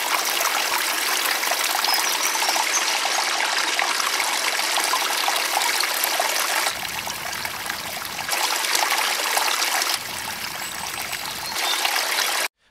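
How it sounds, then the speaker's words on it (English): A water stream rushes and trickles steadily, loud and close, with birdsong in the background; the flow cuts in and out at moments as the sound is filtered. "the higher parts of the water streaming by and also the bird songs in the background"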